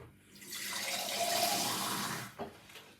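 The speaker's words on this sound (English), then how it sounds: "And now we're gonna put some water." Water pours from a tap or jug into a container holding blueberries and fresh ginger, a steady rushing stream lasting about two seconds before tapering off with a small splash.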